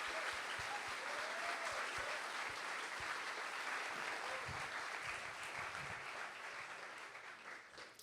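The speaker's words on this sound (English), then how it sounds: "So would you give a round of applause for the sponsors that stepped up and helped make this possible?" Steady applause from a ceremony audience at a hall of fame induction, a thick wash of clapping that holds evenly and then thins out toward the end.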